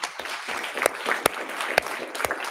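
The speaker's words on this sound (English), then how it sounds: "I'd like if we give a round of applause to John Freimeyer" An audience at a lecture applauds, scattered hand claps ringing out with some sharper, louder claps standing out, fairly close and without any talking.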